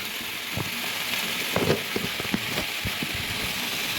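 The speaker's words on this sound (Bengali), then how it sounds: "এবার এটাকে ভাজবো।" Chopped tomatoes fry in a pan with salt and turmeric, giving a steady, close sizzling hiss with soft pops and crackles scattered through it.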